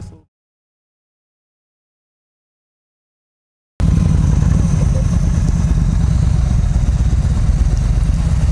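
A motorcycle rides along a country road near a reservoir, its steady engine and rushing wind noise cutting in loudly after several seconds of silence and holding constant to the end.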